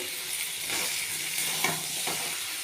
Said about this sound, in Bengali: আমার প্রায় 10 মিনিট হতে চলেছে ভাজা